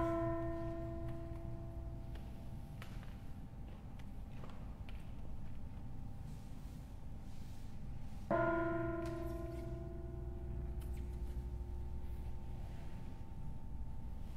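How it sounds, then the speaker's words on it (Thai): A mindfulness bell rung during a guided Buddhist meditation session, struck twice about eight seconds apart, each strike a clear metallic tone with a long, slowly fading resonance over a quiet room. "คุณแม่ขออนุญาตให้ทุกท่านฟังเสียงระฆังอีกครั้ง"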